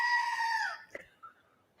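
A screaming goat sound effect gives one loud, strained, bleating cry that holds for most of a second and then cuts off, followed by a couple of faint short noises and near silence.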